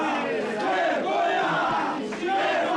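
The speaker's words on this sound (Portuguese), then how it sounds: "vaiando e gritando vergonha durante a fala do presidente da CPMI" Parliamentarians boo and shout in protest during a speech by the president of a congressional inquiry committee, a dense, loud crowd roar that swells and holds for a few seconds.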